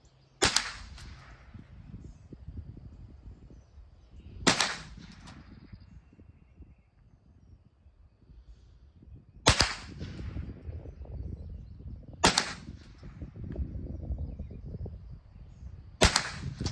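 A Remington Nylon 66 rifle fires Remington Golden Bullet ammunition, five sharp, loud single shots spaced a few seconds apart outdoors, each cracking out clearly over quiet rustling background.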